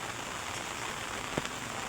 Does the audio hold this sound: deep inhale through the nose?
no